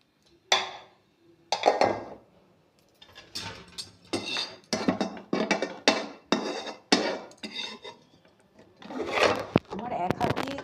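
A metal spatula scrapes and clatters in a kadai, working stuck bits into vegetarian fried rice made with boiled rice, in quick bursts of clinks and scrapes under intermittent talking.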